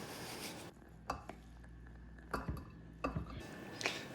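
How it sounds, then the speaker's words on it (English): Utensils clink against a bowl while tabbouleh is moved into a serving dish, with several light, quiet taps and scrapes spaced apart over a faint background hum. "Now we can transfer the tabbouleh to a serving bowl."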